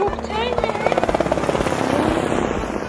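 A toy helicopter's rapid whirring rotor runs steadily at close range in a children's playroom, with a voice and talk layered over it.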